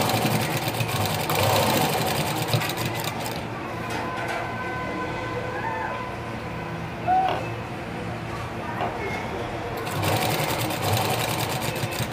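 A sewing machine runs steadily while stitching the lining of a blouse, a close, continuous mechanical whir that drops off briefly midway before starting up again.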